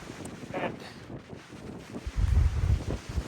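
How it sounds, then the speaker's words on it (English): Gusty wind buffets the microphone in low rumbling bursts on an exposed Adirondack mountain descent in the Dix Range, strongest toward the end, with no one speaking. "It is windy"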